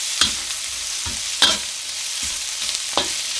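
Onions sizzle steadily in a pan for yakisoba, with a spatula scraping and stirring in several quick, distinct strokes over the constant close frying hiss.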